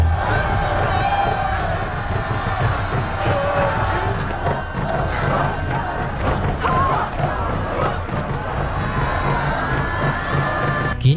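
A large crowd in the film Apocalypto cheers and whoops to welcome arriving captives, a dense roar of shouting voices that holds steady throughout.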